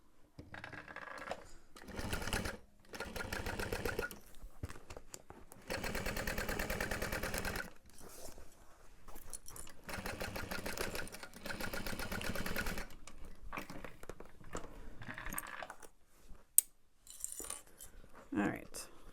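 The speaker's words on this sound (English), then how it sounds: "All right, sew the bottom." A sewing machine stitches through vinyl for a bag in several bursts of rapid mechanical whirring, close and fairly quiet, separated by short pauses.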